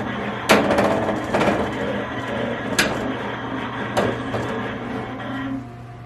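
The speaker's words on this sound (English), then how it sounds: "trace it just to see where the placement will be before we start sewing" A Melco EMT16X embroidery machine hums steadily while tracing its design outline in a Mighty Hoop, with a constant motor drone punctuated by several sharp mechanical clacks and knocks spaced a second or so apart.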